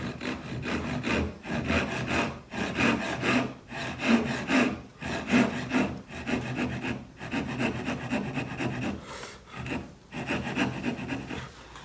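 A Western-style hand saw draws back and forth through wood while a dovetail joint is cut in a joinery class, with steady rasping strokes and brief pauses between them, heard close up without talk.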